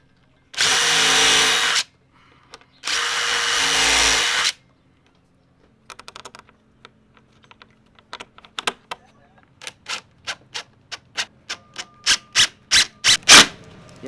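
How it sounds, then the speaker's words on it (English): A drill pre-drills holes in the thin wood of an old door. Two loud, sustained bursts of drilling open the clip, followed by a series of sharp, quickening clicks and taps that grow louder toward the end. "The reason why I pre-drill again, because it's such a small amount of wood, I don't want to split it."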